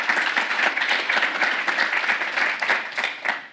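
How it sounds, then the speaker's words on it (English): A conference audience at a fintech week event claps for a panel, a sustained, fairly loud burst of many hands filling the whole span with an even, crackling texture. "Round of applause for this panel"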